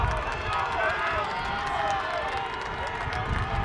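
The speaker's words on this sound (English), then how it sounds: "And you can hear that excitement from the crowd and fans of both teams" Crowd and fans of both teams at a Cal versus SMC rugby match make a continuous distant roar of cheering and chatter, with a commentator talking over it.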